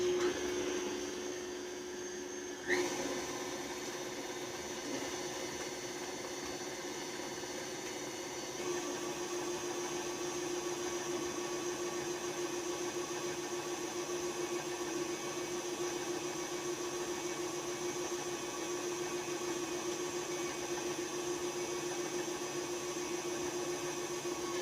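An electric stand mixer with a paddle attachment beats egg into peanut butter cookie dough, a steady whirring motor drone that starts abruptly a few seconds in and runs continuously without talk.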